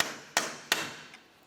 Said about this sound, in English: Now let's use a hammer and punch, give this a loving bonk to break it free.